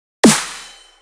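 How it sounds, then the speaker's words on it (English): A single dubstep snare hit built from three layered snares, a punchy body with a bright noisy tail that decays over most of a second, heard alone. "I have this first snare, a second snare, and a third snare"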